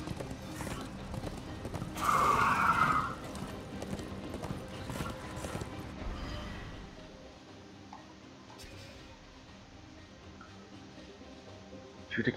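Horse hooves clip-clop in a video game, with a neigh or whinny standing out loud around the two-second mark before the hoofbeats settle into a softer, steady background.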